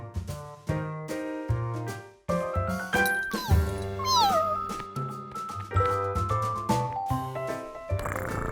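A cartoon kitten meows in short, rising and falling cries over a bright musical score, with light jingling accents nearby.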